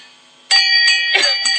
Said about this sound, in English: Why are you holding the bell?